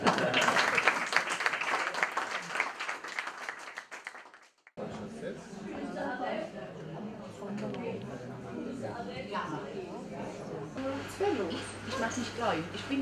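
Applause for the mayor and fire brigade at a Kneipp association anniversary celebration in Haßloch, a burst of crowd clapping that stops abruptly, followed by a murmuring room with scattered voices.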